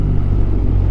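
BMW R1250RT motorcycle engine running, a loud steady low drone heard close while riding, with a constant hum and no break.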